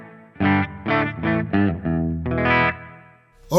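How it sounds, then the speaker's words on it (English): Electric guitar through a Hotone Ampero Mini modeler into a 4x12 cab with church reverb, playing a run of distinct sustained distorted chords and notes whose tails ring out and fade into a long reverb wash. "I've just picked a 4x12 cab. As you can see here on the software, I've just got a bit of reverb going,"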